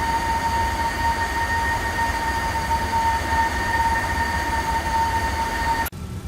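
A Rotate MD-11 airliner in the X-Plane 12 flight simulator drones with a loud, steady engine roar and high tonal whine that cuts off abruptly near the end, with no voices.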